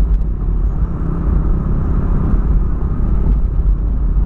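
A Volkswagen Polo engine with a new exhaust hums in a steady, loud, low rumble throughout, an even drone with no revving changes and no talk.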